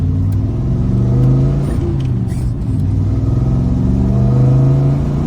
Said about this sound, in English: You can hear that fine sound of the motor even from the inside of the cab